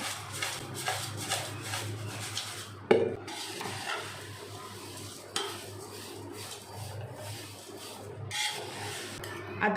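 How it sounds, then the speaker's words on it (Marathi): A spoon stirs tempering through thin poha chivda in a pan, giving a continuous dry scraping and rustling with a few sharper knocks against the metal, close and moderately loud. "ही फोडणी पण आपल्याला व्यवस्थित चिवड्यामध्ये ह्या पोह्यांमध्ये व्यवस्थित मिक्स करून घ्यायची आहे"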